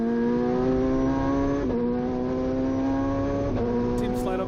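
MCA Hammerhead time attack race car with a sequential gearbox lapping Sydney Motorsport Park, engine holding a loud steady high-pitched drone with brief dips at two shifts, heard from on board.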